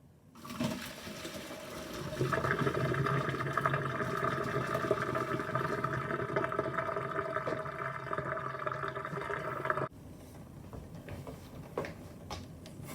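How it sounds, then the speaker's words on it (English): Water rushing and splashing steadily as it drains out of a cooking pot, loud and continuous, stopping abruptly before a quieter trickle. "I'm going to drain this water and start it all over"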